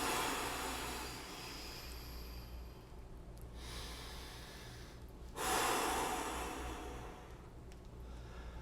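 Breath released during a side-lying bodyweight rehab exercise, a soft airy exhale rising briefly over a low steady background hum, with a second fainter breath later; no talking.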